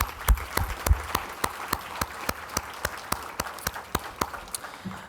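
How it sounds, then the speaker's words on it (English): A symposium audience applauds its speakers, panelists and moderators, producing a steady round of clapping with many distinct hand claps standing out at a moderate distance. No one speaks over it. "let's give our speakers, our panelists, our moderators a round of applause one more time"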